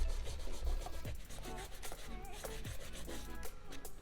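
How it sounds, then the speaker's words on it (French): An eraser rubs on a white faux-leather sneaker, making soft, close, irregular scrubbing strokes at low volume. "je vais juste continuer à gommer ici aussi"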